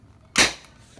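A homemade PVC toy gun, a kastik, fired empty without ammunition, giving one sharp close snap that quickly fades into quiet.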